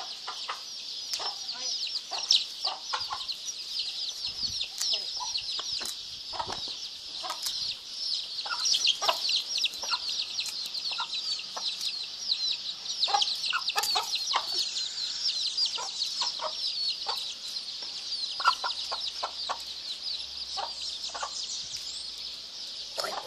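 Chickens cluck steadily and up close in an outdoor yard, with repeated short clucks layered over a constant high insect or bird chorus throughout.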